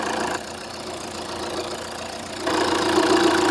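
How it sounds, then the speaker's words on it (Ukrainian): Steady diesel idle of a 2014 Opel Zafira C Tourer Bi-Turbo 2.0d with a low, even rumble and faint knocking texture, close by; the level steps up partway through as the tone brightens slightly. "Мотор робить нормально."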